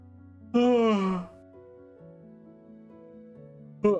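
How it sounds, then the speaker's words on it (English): A person lets out a loud, drawn-out voiced yawn that falls in pitch and fades, followed by quiet background tones, with a short sharp sound at the very end. "That was a loud yawn."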